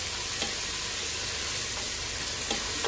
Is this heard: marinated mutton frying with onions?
yes